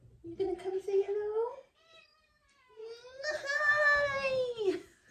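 A kitten gives two drawn-out meows close by, the second louder and longer after a brief pause.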